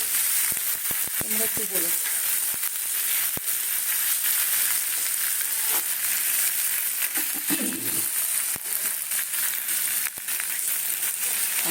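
Onions frying in a pan with a steady close sizzle, punctuated by frequent sharp clicks and scrapes of stirring, while someone speaks briefly over it.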